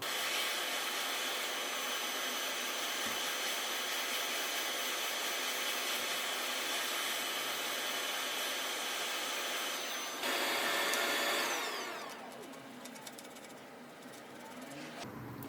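Hot air rework station blowing at 200 degrees Celsius with 50% airflow while repairing a PS4 board: a continuous, close, steady whooshing blower hiss that shifts in tone toward the end.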